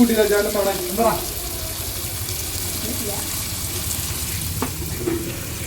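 Green chillies sprinkled with salt fry and get stirred in a pan, a steady broadband sizzle with occasional scraping strokes, while people talk over it nearby.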